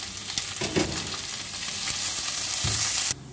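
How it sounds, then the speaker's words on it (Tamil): Big onions sizzling and frying in a pan as they are stirred, a loud steady hiss close by with soft scraping stirs and no talking. "அதனால் 150 பெரிய வெங்காயம். இது நல்லா செவந்து வரும்."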